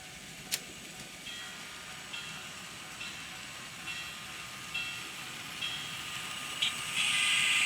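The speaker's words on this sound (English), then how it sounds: "And now it's time to run some trains." Faint, steady running hum of an N scale Atlas SD35 model locomotive with rhythmic clicks every second or so and a brief sharp tick near the start.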